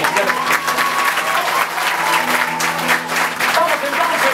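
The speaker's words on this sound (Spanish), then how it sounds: "fuerte el aplauso para María Cristina otra vez" A theatre audience at a concert applauding loudly and steadily, dense clapping from a large crowd with a voice talking over it.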